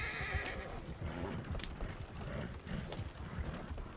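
Horses in the Western game Red Dead Redemption 2 gallop with rapid rhythmic hoofbeats and whinny loudly near the start, along with faint mechanical rattling.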